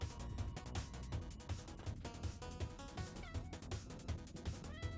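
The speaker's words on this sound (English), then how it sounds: "It makes little meow noises." Small pixel-art cat meowing repeatedly as it is petted in the action platformer 30XX, the meows set over a steady, dense game music track with a thumping beat.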